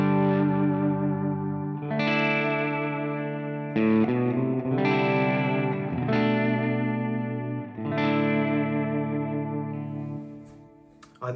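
Electric guitar through a Marshall JTM45 normal-channel amp model on a Quad Cortex plays slow strummed chords, each left to ring out with a warm, lightly driven tone and some reverb, no talking.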